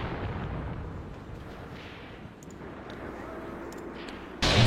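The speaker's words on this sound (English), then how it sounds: "our howitzers are making short work of those guys" Howitzer artillery fire in a combat game, a steady rumbling barrage of booms under faint background chatter, closing with a sudden loud blast.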